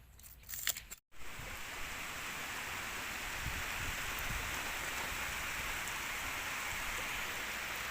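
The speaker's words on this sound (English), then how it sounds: "So now the sky is raining and it is very cold." Steady rain pours down outdoors on a cold day during cooking, a dense continuous hiss that fills the scene after a brief clatter of handling noise at the start.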